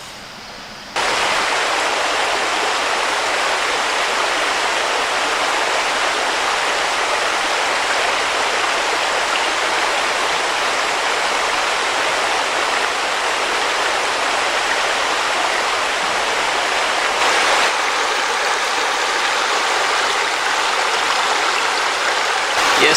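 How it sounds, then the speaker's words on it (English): Steady rush of a creek at a campground in Hyner Run State Park, Pennsylvania, a constant broadband flow heard close by, starting abruptly after a second and continuing unbroken. "let's go sit down by the creek for a bit."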